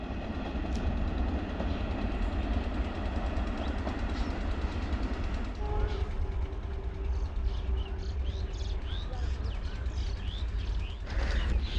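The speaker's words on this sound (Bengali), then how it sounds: "ট্রেন এখন চলে গেল বন্ধুরা" A train on the Krishnanagar–Karimpur line near Plassey station rumbles past in a rural setting, with a steady clatter that fades out as birds chirp nearby.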